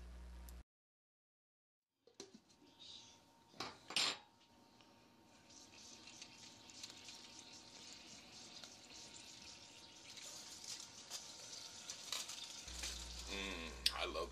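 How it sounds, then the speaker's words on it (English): Steady crackling sizzle of bacon frying in a pan, rising gradually, with a few louder clatters of utensils early on. "I love the sound of frying bacon in the morning."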